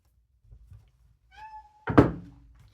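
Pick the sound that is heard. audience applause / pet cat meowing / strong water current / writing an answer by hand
pet cat meowing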